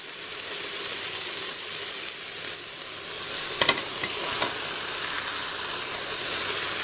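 Beef meatballs and onions fry in a Cookeo multicooker, giving a steady close sizzling hiss with a few brief clicks and pops midway.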